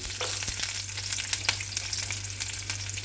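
Cinnamon, cloves, ginger, garlic and green chillies fry in hot oil for a veg kurma, making a loud, continuous crackling sizzle with a low steady hum underneath.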